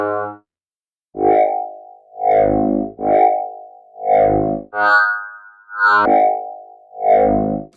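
A synth patch built in Bitwig 4.3 plays through the Chorus Plus module, a series of sustained, lush, shimmering chorused notes repeating in steady phrases, loud and upfront with no talking.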